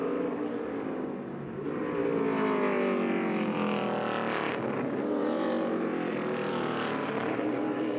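A stock race car engine drones steadily through a corner during practice at the Pit Boss 250, its pitch sweeping as it exits, loud and continuous with a brief dip early on and no talk.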